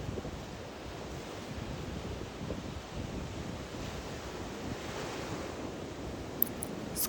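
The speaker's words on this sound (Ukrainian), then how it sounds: "Вдих, хвиля наближається, видих, хвиля відходить." Sea waves wash onto the shore in a steady, continuous rushing surf, with wind buffeting the microphone throughout. No voices are heard.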